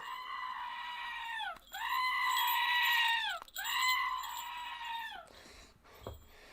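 A goat bleating in three long, loud, wavering cries close by, followed by a brief clatter, no talk.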